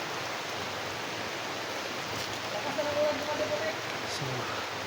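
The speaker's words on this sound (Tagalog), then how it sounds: "So, lakas na ulan." Heavy rain falls as a steady, dense hiss of even wash that holds at a constant level throughout, with only a slight swell in the middle.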